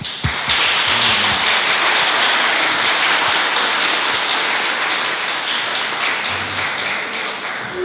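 An audience applauds at a catalogue presentation event, a sustained, dense burst of clapping that holds fairly loud and steady from start to finish.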